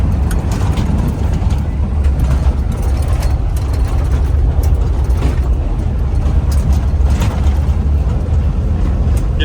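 Square-body crew cab truck rolling along on a test drive around the block, a steady low engine and road rumble with wind noise, heard from inside the cab, continuous and fairly loud.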